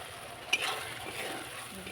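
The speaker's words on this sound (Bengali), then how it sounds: "দিয়ে আমি মশলাটা কষাতে থাকবো।" Spice paste for a chicken curry fries and gets stirred in a pan, a faint, soft sizzle with one brief scrape near the start, close but quiet.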